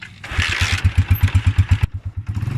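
A motorcycle engine cranks and catches, then settles into a loud, close, rhythmic chugging idle with regular pulses, nobody speaking.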